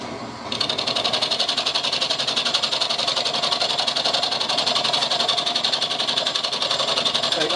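Metal-cutting lathe taking a final pass on a cross slide feed nut, a steady loud whirring drone with a dense, even machining buzz that starts abruptly and holds constant throughout.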